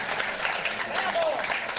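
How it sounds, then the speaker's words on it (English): A crowd at a Conservative Party rally for the leader of the opposition claps and cheers in a dense, steady burst of applause that fills the whole moment. "How about one more round of applause for the leader of the opposition"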